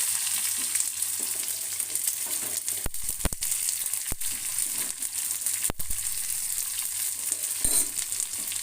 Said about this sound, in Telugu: పోపు నెయ్యి జీలకర్ర వేస్తున్నాను ఉల్లిపాయలు